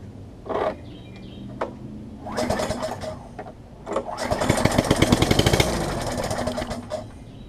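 Craftsman self-propelled lawn mower engine with no exhaust fitted, starting in sputtering bursts and then running loud and rough for a few seconds at close range before cutting out.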